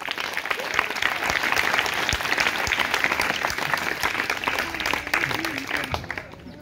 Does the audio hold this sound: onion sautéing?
no